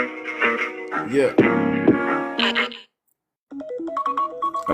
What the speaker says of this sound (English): That was my alarm for this show right here.